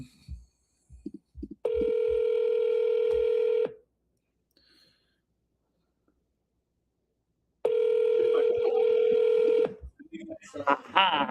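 A telephone rings with two long, steady electronic ring bursts separated by several seconds of near silence, loud and close, with brief clicks and tones before and after the rings.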